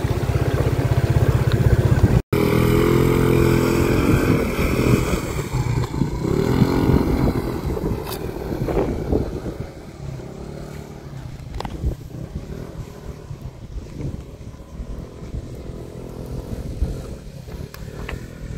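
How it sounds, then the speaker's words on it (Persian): Small, low-powered motorcycle ridden down toward the beach on Hormuz Island, its engine droning loud and steady throughout with a brief cutout near the start, plus rumbling wind and road noise. "مقصد بعدی بریم پایین لب دریا با موتور."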